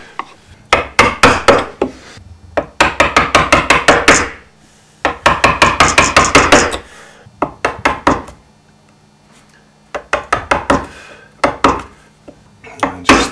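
A gouge chisel is struck hard with a mallet, carving tough elm wood. It gives close, loud, sharp knocks in quick rapid bursts of a dozen or so blows, separated by short pauses.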